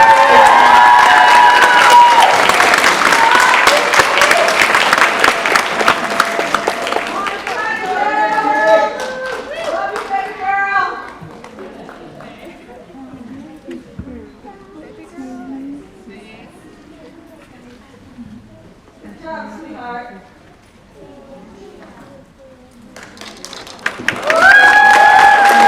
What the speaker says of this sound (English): Please give a round of applause for Tia Harvey,